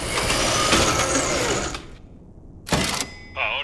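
A grinder machine in Borderlands: The Pre-Sequel whirs loudly for nearly two seconds and then cuts out. After a short pause comes a sharp mechanical burst, followed by a brief rising electronic chime.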